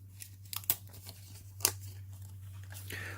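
Thin card pieces popped one by one out of a kit sheet, close up, giving a few sharp snaps and crisp tearing crackles spaced irregularly over a quiet, humming background.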